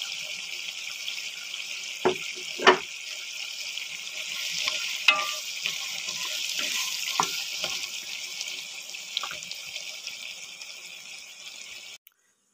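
Sweet peppers sizzle in a frying pan under a constant hissing wash, with scattered scraping stirs and a few sharp knocks, nearby and moderately loud, ending abruptly.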